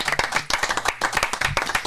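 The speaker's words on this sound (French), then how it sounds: "Et ça, mesdames et messieurs, ça s'applaudit également." Studio audience on a French television show clapping, loud close hand claps in a quick, slightly uneven rhythm with a few low thumps mixed in.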